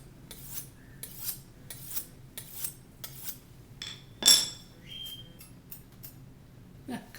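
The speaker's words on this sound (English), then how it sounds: "This is how you sharpen a knife in the field." A knife blade drawn along a sharpening steel, giving about a dozen short, bright metallic scrapes in a steady rhythm with one louder ringing stroke partway through; close and fairly quiet, no talk.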